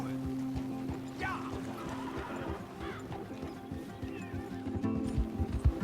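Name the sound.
horse galloping during an endurance race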